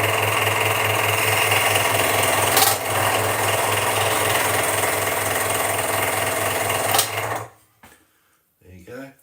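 A saw or rasp cutting off a piece of a wood carving, a steady loud grinding buzz running for about seven seconds before stopping abruptly, followed by brief quiet voices.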